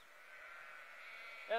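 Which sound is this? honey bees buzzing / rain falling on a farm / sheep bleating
sheep bleating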